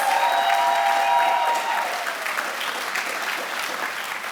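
Steady crowd applause for College of Engineering graduates at a master's hooding ceremony, a broad continuous wash of clapping from a large audience, even in level throughout.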